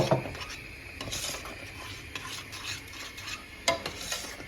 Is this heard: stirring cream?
yes